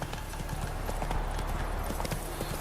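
Horse hooves clip-clop in a fast, steady gallop in The Witcher 3, the rapid thuds continuous and close throughout, with no talk over them.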